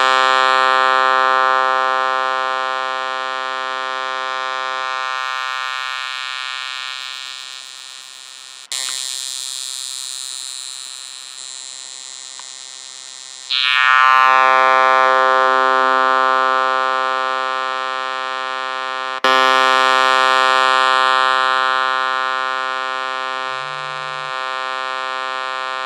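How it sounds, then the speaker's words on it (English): A synthesizer tone with its low-pass filter cutoff turned down, heard alone as a sustained, buzzy note at steady loudness, with brief changes and swells as settings shift over about twenty-five seconds. "you have to change the cutoff so that it's down to the lower frequencies, because you want all the low frequencies to pass through"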